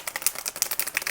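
Tarot cards being shuffled make rapid, crisp riffling clicks in quick irregular bursts, close and fairly loud, with no talking.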